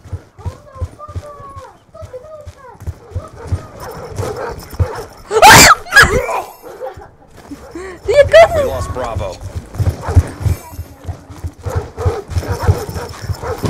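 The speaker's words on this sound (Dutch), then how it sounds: "Hostile canine unit in your area." Attack dogs barking in Call of Duty Black Ops 2, sharp yips and barks scattered through game noise, a loud burst and clattering effects, with talking over much of it.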